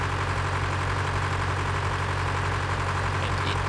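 Tractor engine idling in Farming Simulator 2013, a steady, loud low rumble that holds unchanged throughout with no voices over it.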